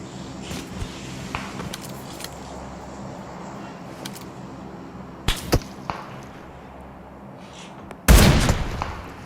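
Gunfire in a multiplayer shooter match sounds as scattered sharp cracks and a few bursts over a low steady game background, ending with a loud close blast.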